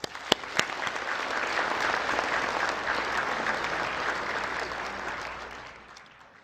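An audience at a national prayer breakfast applauding, a sustained wash of many hands clapping that swells, holds steady for several seconds and fades, moderately distant, with no talk over it.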